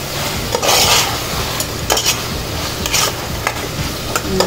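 A spoon scrapes and stirs through a sizzling pan of fried drumstick gravy with added oil, irregular scraping strokes over a constant frying hiss, close up with no speech.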